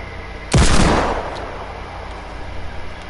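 Video game gunfire sounds as a single loud, booming blast whose long tail slowly fades, followed by a low, steady background hum with no speech.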